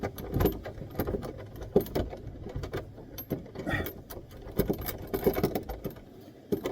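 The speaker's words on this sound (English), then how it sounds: "So the first thing I'm going to do is just undo these wing nuts here." Wing nuts are unscrewed by hand, with irregular close metallic clicks, small clanks and rattles of threads and washers spread throughout at moderate level.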